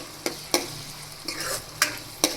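Leftover roti curry being stirred with a spoon against the pan, soft scraping strokes landing about every half second over a faint steady sizzle, close and alone.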